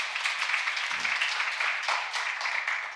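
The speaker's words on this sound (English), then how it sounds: "So let's give him a nice round of applause first." Audience at the Seoul Diplomacy Forum 2023 gives a speaker a round of applause, a steady, moderately loud patter of many hands that continues evenly throughout.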